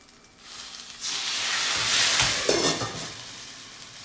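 Steady, loud sizzling and hissing from a hot frying pan as water steams gyoza, with a faint clink of cookware partway through.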